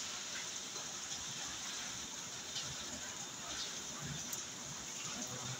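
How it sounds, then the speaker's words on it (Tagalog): Heavy rain falling steadily near a pigeon loft, a dense continuous hiss with scattered drop impacts, no letup and no voices over it. "sobrang lakas ng ulan"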